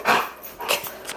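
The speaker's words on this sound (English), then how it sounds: "2 obnoxious little dogs." Two small dogs bark close by in a quick burst of yappy, high barks, three sharp yips over about a second.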